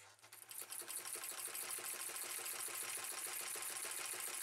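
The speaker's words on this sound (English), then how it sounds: "Select a medium stitch length and start to sew." A vintage sewing machine fitted with a zigzag attachment stitches at a steady fast pace, its needle mechanism clattering in an even rapid rhythm after a brief start-up, with no talk over it.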